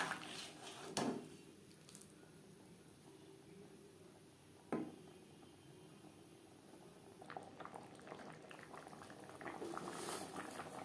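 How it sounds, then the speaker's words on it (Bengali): Navratan korma gravy bubbling in a pan, a soft continuous simmering burble with occasional louder pops, fairly quiet and close, without any voices. "গ্রেভি বেশ ভালো করে ফুটিয়ে নেব।"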